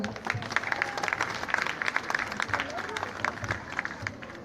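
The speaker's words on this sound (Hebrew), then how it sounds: "אני מזמינה את עידו במחיאות כפיים" Lively applause from a class at a school award ceremony, brisk uneven clapping mixed with children's chatter and murmuring voices throughout.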